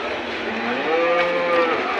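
A buffalo moos at a livestock market in Rampura Phul, a drawn-out low call rising and sustained near the listener over a busy crowd murmur, with no distinct talk.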